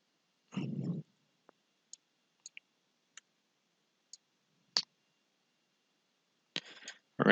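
Sharp, isolated computer mouse clicks at an uneven pace while dimensions are placed on a machined plate model in reverse-engineering software, with a few louder handling bumps near the start and end.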